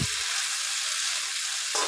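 Maggi noodles being stirred with sautéed onions in a heavy-bottomed frying pan, giving a steady close sizzle with a brief scrape of stirring at the start and end.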